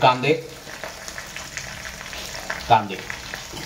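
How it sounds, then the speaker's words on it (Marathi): Chopped onions hit hot oil in a pan and sizzle loudly, with bursts of frying at the start and again near the end over a steady low crackle. "त्यानंतर मी टाकणार आहे कांदे बघा"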